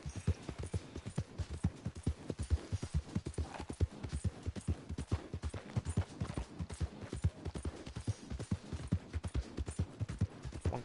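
A horse gallops in Red Dead Redemption 2, its hooves striking in a quick, steady, rhythmic clip-clop that carries on without a break, close and clear, with no speech.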